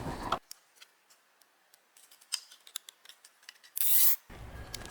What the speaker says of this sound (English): Next, attach the remote control to the bracket with a couple of zip ties.